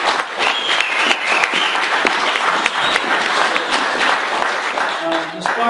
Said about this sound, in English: I think we should owe this guy a big round of applause,